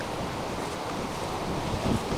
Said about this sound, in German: es ist ein bisschen zu windig heute, um diesen ersten Schritte zu machen